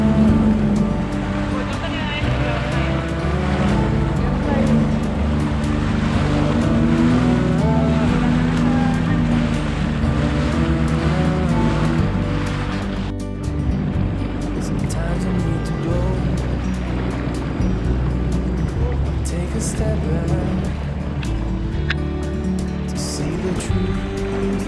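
A jet ski runs on the Peace River near Punta Gorda, its engine a steady droning rumble under a person talking, easing off partway through before continuing more quietly.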